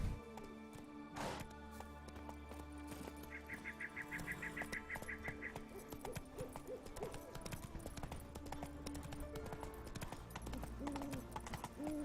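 Rhythmic clip-clop of horse hooves trots along steadily over ambient sounds in The Witcher 3: Wild Hunt, with a brief hooting call partway through and no talking.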